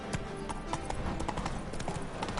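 A horse's hooves clip-clop at a steady trot in The Witcher game, a rapid even patter of close hoofbeats throughout.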